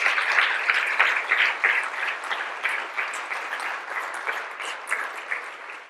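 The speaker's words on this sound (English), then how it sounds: "Can I have a warm round of applause for our panelists," An audience gives a warm round of applause for panelists at a climate funding event, full steady clapping from many people that gradually thins and softens toward the end.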